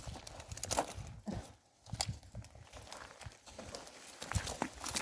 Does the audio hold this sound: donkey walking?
yes